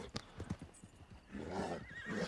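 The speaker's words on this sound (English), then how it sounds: "That's a nice looking horse." A wild American Standardbred horse in Red Dead Redemption 2 gives a loud, close whinny with a rising, quavering neigh, preceded by a few sharp clip-clop hoof steps, with no talking.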